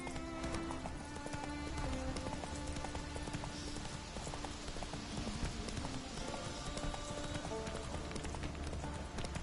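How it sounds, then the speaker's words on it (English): A horse gallops in The Witcher 3, with a fast, continuous clip-clop of hooves under dense game sound and music, fairly quiet overall. "Whoa there, Roach. Faster."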